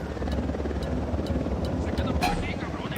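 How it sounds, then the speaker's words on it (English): A helicopter's steady low rotor thrum fills the scene in Tom Clancy's Ghost Recon Wildlands, loud and continuous, with voices faintly mixed in. "Chopper's approaching."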